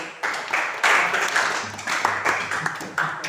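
Students in a classroom clap after a music ensemble performance, in uneven bursts that swell and fade, fairly close, with a faint hum underneath.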